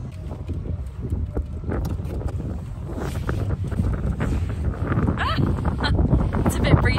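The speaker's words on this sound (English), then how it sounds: "It's a bit breezy." Wind gusts around a sailboat in the evening, a steady broadband rush that swells louder toward the end, mixed with scattered knocks, creaks and rustles and brief voices nearby.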